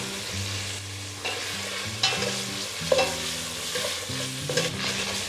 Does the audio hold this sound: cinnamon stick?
yes